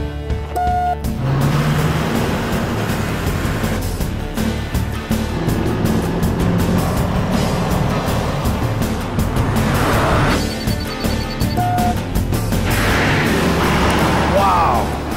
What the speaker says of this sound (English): we'll measure which truck can go from 0 to 60 the fastest from a standing start